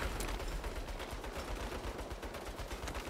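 Rapid turret gunfire in the Saints Row (2022) game rattles in dense, continuous bursts, loud and close throughout.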